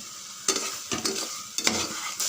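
Masala for brinjal biryani sautés in a pan with a steady sizzle, broken by four crisp spatula strokes stirring and scraping through the mixture, close and clear with no talking.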